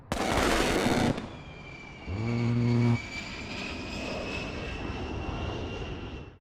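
In the video game Squad, an A-10 jet's cannon gives a loud ripping burst, then the jet whines away overhead, fading steadily into the distance.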